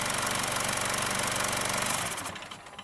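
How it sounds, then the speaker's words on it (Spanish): A 2010 diesel vehicle's engine runs at raised revs during a turbo boost test, a loud, dense mechanical drone that holds steady and then drops away as the engine winds down near the end. "Acelere el motor"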